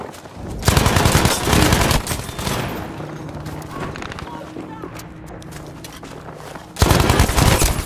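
Rapid bursts of automatic gunfire in the World War II shooter Battlefield V, loud and dense at the start and again at the end, with quieter game noise in between.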